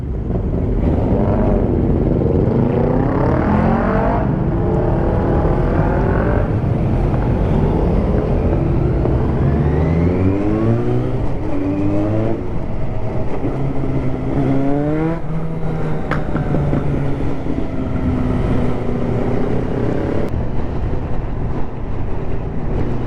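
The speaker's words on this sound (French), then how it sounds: "ça fait quand même un sacré tas de motos" A loud, continuous stream of many motorcycles on a group ride roaring past, revving and shifting with rising and falling pitches, wind buffeting throughout.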